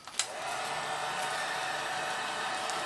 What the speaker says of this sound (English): Then you just use the heat gun